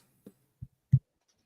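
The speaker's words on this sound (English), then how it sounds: "only listening to my loud heartbeat" Three low, soft thumps arrive at an even pace, each a little louder than the one before, like a loud heartbeat sound effect heard in near silence.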